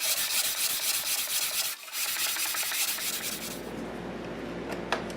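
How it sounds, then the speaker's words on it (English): A radius sanding block rubbing along a classical guitar's wooden fretboard, close and continuous rasping strokes in a steady back-and-forth rhythm that eases off near the end, with no talk. "I've got the fretboard sanded"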